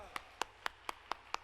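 Slow isolated claps at a prayer-house revival service as the pastor is welcomed, six sharp evenly spaced hand claps, fairly quiet over a low background hum.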